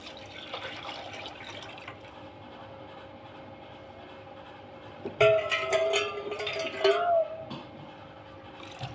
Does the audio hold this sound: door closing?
no